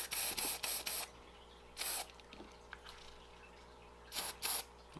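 Line conditioner sprays onto a baitcaster fishing reel in short, close hissing bursts: four quick squirts in a row, one more a moment later, then two near the end, with quiet between.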